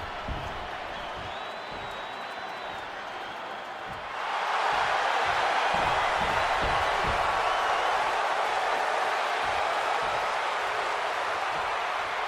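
A capacity arena crowd in the WWE 2K26 video game, first a steady murmur, then surging into a loud, sustained roar of cheering partway through.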